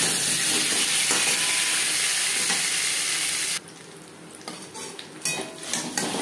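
Potatoes frying in oil in a pan after katla fish, a steady loud sizzle that drops suddenly partway through, followed by quieter crackling with occasional clinks of utensils and stirring.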